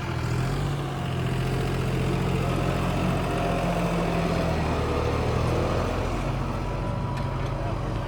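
A John Deere 5055 tractor whose engine was modified to an inline injection pump runs steadily during a performance test, a loud, constant low diesel rumble that holds for the whole stretch.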